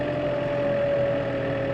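A farm tractor engine holds a steady, raised-rev drone close by, a constant hum with a faint high whine over it and a slight knocking texture underneath.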